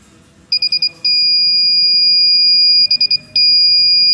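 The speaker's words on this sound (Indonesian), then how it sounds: "buzzer akan mengeluarkan suara seperti itu, dan di dashboard juga akan ada status kartu tidak dikenal" An electronic buzzer on a smart garage access system sounds loudly for an unrecognized access card: a quick burst of four short beeps, then a long sustained tone, and the same pattern repeats.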